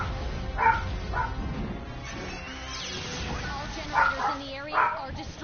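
A pet dog barks and whimpers in a few short yelps over the steady noise of a Godzilla game on PS4, with voices in the room.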